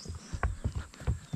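Horse hooves clip-clopping at a steady walking pace along a park trail in Plettenberg Bay, South Africa, each footfall a short, fairly close knock in an uneven rhythm against a faint outdoor background.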